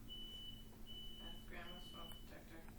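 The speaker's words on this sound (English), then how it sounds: "Sorry, alarm going off right now." A faint, thin alarm beeps steadily in a room, a long continuous tone broken by brief gaps, heard quietly under low background noise and some murmured talk.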